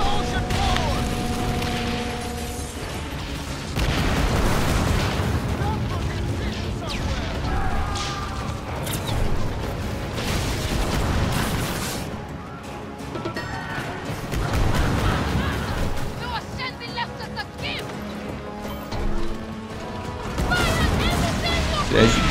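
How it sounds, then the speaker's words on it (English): Ship cannons fire in a Skull and Bones naval battle, heavy booms and crashing impacts landing repeatedly over a dense game soundscape with music, loud and continuous throughout. "Just hammer away with your cannons"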